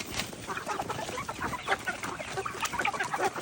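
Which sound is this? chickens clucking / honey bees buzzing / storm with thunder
chickens clucking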